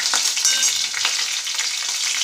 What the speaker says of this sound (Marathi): लसूण टाकायचं आहे लसूणचा रंग लाल होईपर्यंत थोडंसं